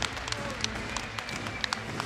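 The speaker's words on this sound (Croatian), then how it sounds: "Molimo, podržite pljeskom oba borca prije proglašenja pobjednika." An audience at an FNC 5 MMA event claps for both fighters after the bout, giving scattered, moderate applause with a few sharp individual claps over a low crowd murmur.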